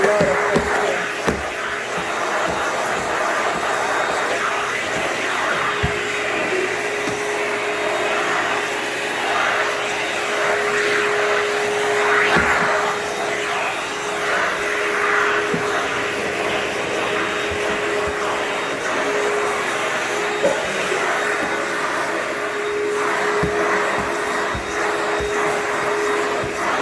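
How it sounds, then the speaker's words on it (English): A vacuum cleaner runs over a floor during a house cleaning job, giving a steady, loud whirring drone that holds without a break from start to finish, with no talk. "Start vacuuming."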